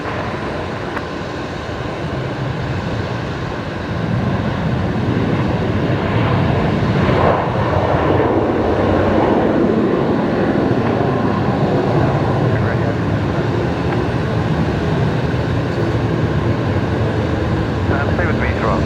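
A jet airliner on a night approach to runway 19 left at Brisbane Airport roars loud and steady, its engine noise swelling and sweeping as it nears, with radio voices over it.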